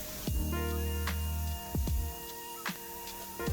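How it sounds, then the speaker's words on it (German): A spray can blasts onto the upper rail of a lowered roller garage door in steady hissing bursts, close and loud, with a few short breaks between sprays. "Ich sprühe jetzt hier oben satt"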